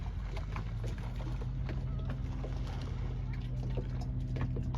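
A dinghy outboard motor runs steadily on a ride to a Florida Keys beach near Marathon and Boot Key, giving a constant hum with wind and water noise and faint voices in the background.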